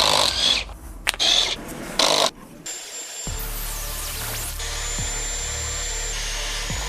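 A power drill drives screws into a low-profile articulating vehicle ramp, several short bursts of whirring in the first seconds, then a steady low hum with a faint high tone in a quiet room.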